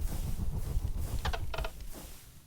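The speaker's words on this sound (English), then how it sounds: "Now that we're flying up, we can get started with a little bit of the motor." Mechanical whirring and clicking from a motor-driven airship flying in the game Minecraft with Create Aeronautics, a low rumbling drone with a few quick ratcheting clicks, faint and without speech.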